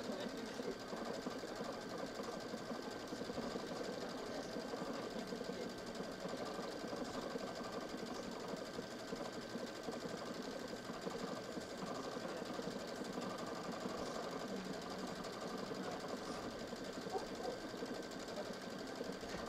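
A Baby Lock Solaris sewing machine stitches fabric with a steady, fast, even mechanical whir and hum, close and continuous for about twenty seconds with no voices.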